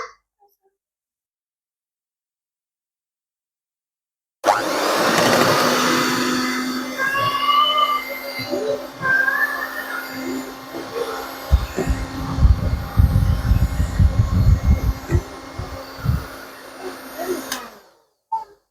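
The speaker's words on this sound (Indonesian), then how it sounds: "kalau pisang sudah masuk, kita mixer pakai kecepatan rendah saja" An electric mixer whirs at low speed through banana cake batter, a steady motor hum that starts abruptly, fluctuates as the beaters work, and cuts off at the end.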